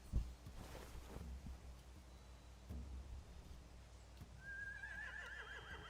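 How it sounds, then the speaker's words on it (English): Horses neighing in a Walking Dead video game, a faint, wavering whinny rising late in the clip over low ambient rumble and a few soft thuds, no voices. "They have horses."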